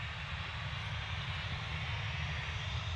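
Airliner engines spool up steadily during a takeoff roll at Manchester Airport, a continuous broadband roar with a low rumble, heard from a distance and fairly faint.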